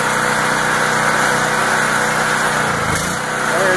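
A DuroStar DS4000S gas-powered portable generator (3300 running watts, 4000 starting watts) runs on half choke, its small engine holding a steady, loud, close buzzing drone throughout with a slight dip near the end.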